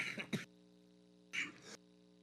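A person clears their throat or coughs twice, close and fairly quiet, two short bursts about a second apart over a faint steady hum.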